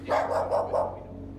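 A dog barks four times in quick succession indoors in a home, the barks moderately loud and evenly spaced, followed by a short quiet tail.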